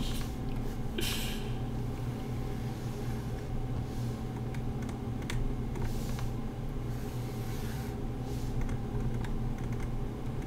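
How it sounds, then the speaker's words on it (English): Steady computer keyboard and mouse clicking during animation work, a fast, constant patter of keystrokes close to the microphone with no speech over it. "Me clicking!"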